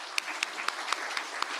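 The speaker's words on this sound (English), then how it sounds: "they really deserve the biggest applause you have for them" A conference audience applauds first-year undergraduate students, a brief run of regular sharp claps over a soft wash of clapping, moderately near, with no talk.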